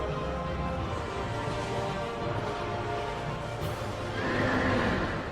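A horse in the Dark Souls 2 video game whinnies amid dense game audio, the neigh blended into a steady loud wash of effects and music for several seconds.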